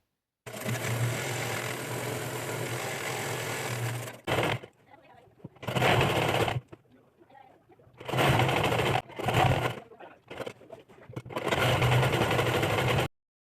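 A sewing machine stitches sari fabric panels in several loud bursts of rapid whirring, some long and some short, with brief quiet pauses between runs.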